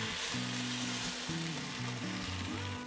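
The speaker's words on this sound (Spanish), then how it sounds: "Enseguida agregamos las rajas que tenemos aquí y también la salsa que acabamos de moler." Chile strips and freshly ground green salsa hit a hot pan with egg, setting off a loud, steady sizzle and frying hiss that holds throughout with faint stirring.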